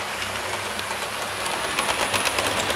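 An electric toy train runs along its track with a steady, close whirring rumble and faint clicking over rail joints that grows slightly busier toward the end.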